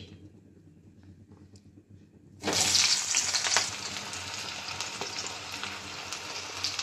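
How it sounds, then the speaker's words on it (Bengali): Four large chopped onions drop into hot mustard oil for a Bengali lotte shutki dry fish curry, setting off a sudden loud sizzle partway through that settles into steady close frying. "তেলটা আমার গরম হয়ে গেছে, তাতে আমি দেবো পেঁয়াজ কুচো"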